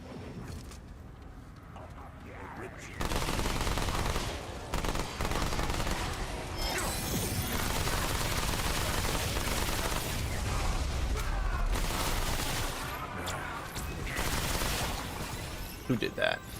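Rapid gunfire from a weapon in the shooter game Remnant 2, dense repeated shots running loudly for most of the stretch with people talking over it.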